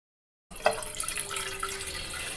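Water is poured into a cooking pot, a close, continuous splashing stream that starts suddenly and keeps running with a faint rising ring as the pot fills.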